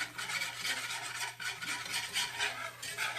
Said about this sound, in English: really just barely scraping the bottom. Really not even scraping, just kind of rubbing over